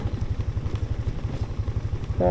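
Motorcycle engine thumping at a steady rhythmic pulse while riding on a rough, slippery trail, close and moderately loud with a brief noise at the end.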